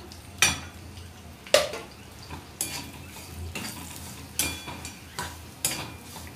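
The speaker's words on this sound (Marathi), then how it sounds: "चांगला लालसर होईपर्यंत आपल्याला हा रवा भाजून घ्यायचा आहे" Semolina (rava) roasts in ghee in a pan over a low flame, with a soft steady hiss under a series of sharp scraping strokes from a spoon against the pan, about eight of them at uneven intervals.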